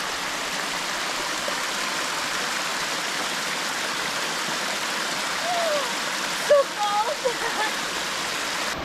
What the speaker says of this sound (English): Here are Gwen's waterfalls.